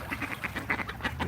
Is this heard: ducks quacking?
yes